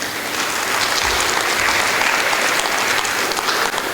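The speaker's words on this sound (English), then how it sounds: "could we give Tanya and Karen a round of applause" A crowd at a family support day claps steadily and fairly loudly, a continuous round of applause with no voices over it.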